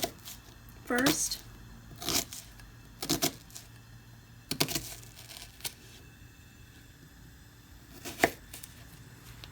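A kitchen knife slices a shallot lengthwise on a cutting board in a few separate sharp cuts spaced across the stretch, with a person talking in between.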